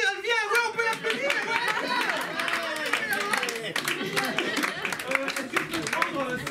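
An audience at an improv theatre show applauds, scattered clapping rising and mixing with lively chatter and a voice speaking, moderately loud throughout.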